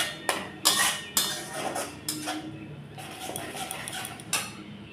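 Tomato puree masala frying in a pan, stirred with a metal utensil: a run of sharp scraping clanks against the pan at uneven intervals over a steady sizzle, close and fairly loud, with no talking.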